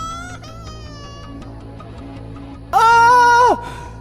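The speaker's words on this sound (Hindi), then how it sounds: "अचानक मुझे एक बच्चे की जोर जोर से रोने की आवाज आने लगी।" A baby cries loudly as a sound effect in an animated Hindi horror story, a short piercing wail bursting in near the end over a quieter musical tone bed.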